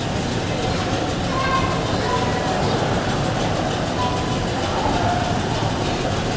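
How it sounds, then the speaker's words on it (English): Vintage MTA subway train running, a steady dense rumble and rattle of wheels and car body throughout, continuous and close with no voices. "So here's the vintage train that we're gonna ride."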